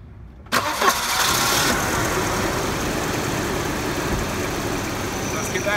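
A Volvo car engine catches and settles into a steady, fairly loud idle close by after about half a second, running on evenly to the end during work on its fuel pressure regulator; some speech-like sound is mixed in.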